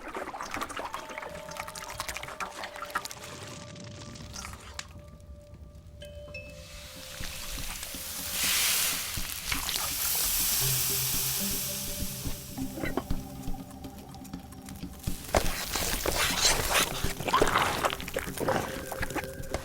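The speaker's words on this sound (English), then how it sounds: "In a huge 1 metre wide pot, Shun Chao Ji spreads pea mixture across the rounded base to make a thin pea crisp" Pea mixture is spread across the rounded base of a huge one-metre-wide pot to make a thin pea crisp, with steady sizzling and frying, stirring and scraping, swelling into louder bursts of hissing steam.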